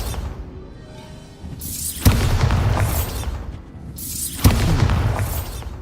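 Two Bombarda blasting spell explosions from Hogwarts Legacy hit about two seconds apart, each a sharp loud crack into a deep rumbling boom with a debris-scattering tail, the first preceded by a rising whoosh.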